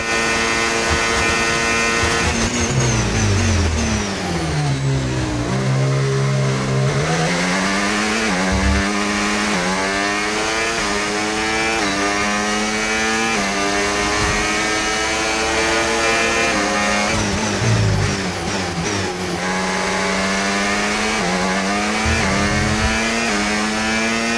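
A Formula 1 car engine in the racing game F1 25 screams at high revs, rising and dropping through repeated gear shifts and corners, loud and close for the whole stretch.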